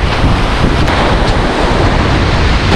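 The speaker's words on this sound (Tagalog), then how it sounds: "Ay, lakas ang hangin." Strong wind roars continuously into the microphone at the sea while fishing, a loud, rough buffeting rush with the wash of surf underneath.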